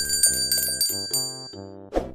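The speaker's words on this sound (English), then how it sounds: "don't forget to ring that bell" A bell sound effect rings out in a quick series of bright, tonal dings, like a bicycle bell, loud and close, ending with a short flourish and no talking.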